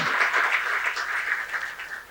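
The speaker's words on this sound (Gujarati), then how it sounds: "એમને જોરદાર તાળીથી વધાવીએ" An audience applauds steadily for about two seconds to welcome a guest, Trupti-ben of the Brahma Kumaris Varachha centre, at a talk gathering. The clapping is dense, fairly loud and continuous, with no voices over it.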